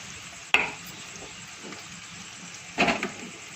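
Chopped onion fries in a pan at home for a yogurt mung bean dish, with a soft steady sizzle broken by two sharp spoon scrapes and stirs, one early and one later.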